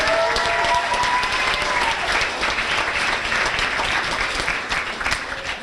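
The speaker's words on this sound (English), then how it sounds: "How about a nice round of applause for Cheryl Wolk and the kitchen staff for a fantastic meal." Hearty, sustained applause from a banquet crowd at a high school sports dinner in Ste. Genevieve, Missouri, honoring the kitchen staff, with a few voices mixed in.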